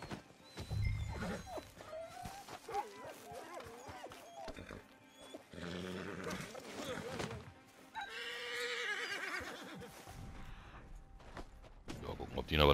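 A horse in the video game Red Dead Redemption 2 neighs and whinnies in several bursts, alongside hoof clops and game effects, while a German-speaking player talks over parts of it.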